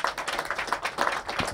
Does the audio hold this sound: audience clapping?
yes